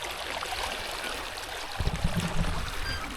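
Hobie Cat 16 catamaran sailing at speed on a calm sea at sunrise, with a steady close-up rush of water along the hulls and a burst of gurgling splashes near the end.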